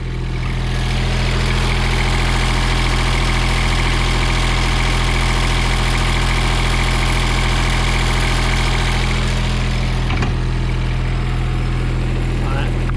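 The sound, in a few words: diesel mower engine idling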